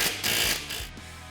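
Rapid ratchet clicks come from a ratchet tightening a castle nut on the steering rack of a Polaris Ranger 900. The clicks are close and fairly loud, run in several short bursts and are heard alone with no talk.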